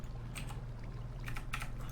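Quick, light keystrokes clatter on a computer keyboard in short bursts over a steady low electrical hum, close and fairly quiet, with no voices.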